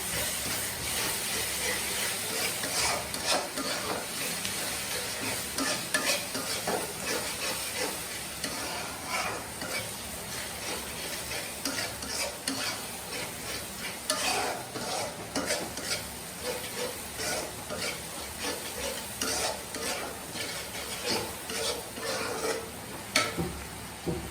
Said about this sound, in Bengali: সব কয়টা মশলা আবার ভালো করে কষিয়ে দিই